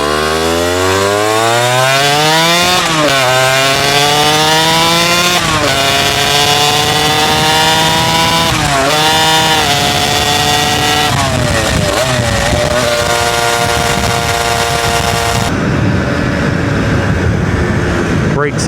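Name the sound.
vehicle engine revving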